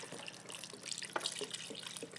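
Chicken broth pours into a soup pot for classic chicken noodle soup, a faint, steady liquid trickle and splash with no talking.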